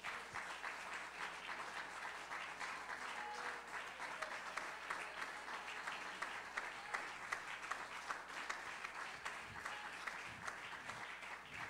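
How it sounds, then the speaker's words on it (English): A church congregation gives a sustained round of hand clapping in praise, a dense, steady wash of applause from many people filling the room for the whole stretch, with no talking over it. "give the Lord a great hand clap of praise"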